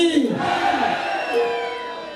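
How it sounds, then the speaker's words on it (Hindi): Crowd at a Uttarakhandi cultural festival in Dubai cheering and whooping loudly, a dense wash of voices and shouts rising together, close and sustained throughout. "तो जोरदार तालियां हो जाए।"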